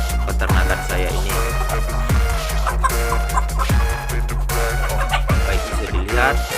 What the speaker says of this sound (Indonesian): inilah merupakan salah satu ayam kampung saya yang masih berusia 3 bulan